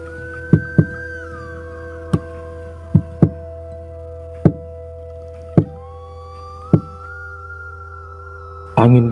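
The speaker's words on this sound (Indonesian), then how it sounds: "samar-samar dari jendela terdengar seorang mengetuk-ngetuk" Someone knocks on a window at night: a slow, uneven series of sharp single raps. Steady droning tones and a faint rising wail sound underneath, and the clip ends in a short loud burst.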